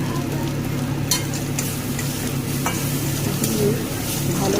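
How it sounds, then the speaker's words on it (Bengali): Spices with turmeric and cumin powder frying in a pan, a close steady sizzle broken by scraping stirring strokes and occasional clinks of a utensil against the pan, with no talking. "মশলাকে ভালো করে নেড়ে ভালো করে ভেজে নেব।"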